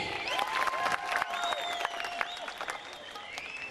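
Audience at a stage show of Mappila songs claps and cheers in a short burst of applause, heard under sustained live music with melodic tones on top.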